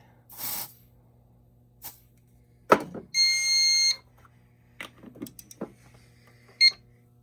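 A short hiss of test smoke sprayed at a smoke detector, then a Silent Knight IFP-50s fire alarm panel sounds a brief steady tonal buzz, among scattered clicks and bumps nearby.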